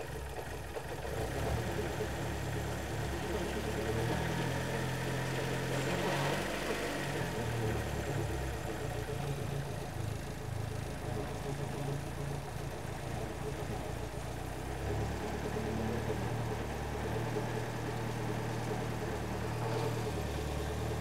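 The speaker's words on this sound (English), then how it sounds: "So when I pull this out, the engine tone will change drastically." A Ford Escort RS Turbo engine idles steadily and continuously, a close, even rumble with a slightly weak tone and no talk over it.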